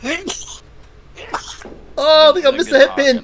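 A quick sneeze bursts out during a bowling game stream, followed shortly by a person speaking loudly near the microphone.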